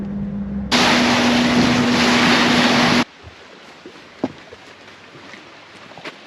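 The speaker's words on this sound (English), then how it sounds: "Getting on a ferry." Aboard the ferry to Madeline Island, a loud droning engine roar with a steady hum surges up for about two seconds, then drops away to faint, scattered ambient noise with a few light knocks.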